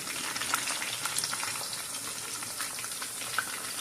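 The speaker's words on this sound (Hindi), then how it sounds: "सारी जो ट्रिक है वो इसकी फ्राई करने पे आ जाता है।" Chicken boti frying in a pan over medium-low heat, giving a soft, even hiss of fine crackles that stays quiet and steady, with no talking.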